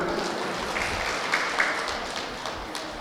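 An audience claps at an outdoor event, a sustained wash of applause at moderate level with a few sharper individual claps standing out.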